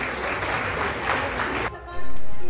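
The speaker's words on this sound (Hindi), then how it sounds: "इनके लिए एक बार जोरदार ताली लगाइए।" Loud applause from an audience at a Women's Day Nari Shakti Samman award ceremony, starting broad and building, with an announcer's voice over the clapping before it swells to a full, steady burst at the end.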